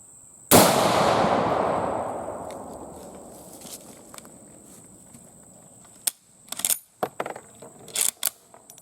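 A Polish M44 Mosin Nagant rifle fires one loud, sharp shot up close, and the report rings out and slowly decays over several seconds. Scattered clicks and clatter follow, likely handling of the rifle.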